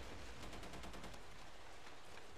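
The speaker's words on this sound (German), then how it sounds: "das hat sich sehr nach einem MG angehört von Panzer" Rapid tank machine-gun bursts in Tom Clancy's Ghost Recon on PC, quick regular shots crackling in the distance, fairly faint, then fading into a steady background rumble.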